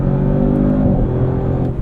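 A 2024 Audi RS7 engine held at high revs around 5,000 RPM in third gear, a loud steady droning roar heard from inside the car, no talking.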